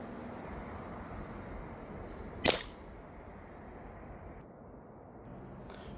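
A single sharp, quiet crack of a CCI subsonic .22LR round fired from a rifle, one brief report standing alone over steady outdoor background noise.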